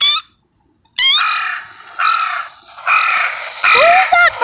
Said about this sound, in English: Oh, it's a crow.